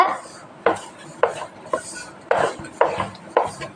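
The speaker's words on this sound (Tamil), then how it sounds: "நல்லா மிக்ஸ் பண்ணி விட்டுக்கோங்க" A spoon stirs sugar into drumstick kesari in a pan, giving about seven sharp metallic scrapes and taps in an uneven rhythm, close and fairly loud with no talk.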